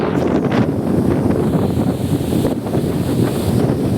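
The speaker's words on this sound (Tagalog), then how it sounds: "Ito, grabe yung alon." Strong sea waves and gusting wind of about 51, with waves around 5 ft, roar continuously as a dense, loud wash of surf and wind buffeting close to the microphone.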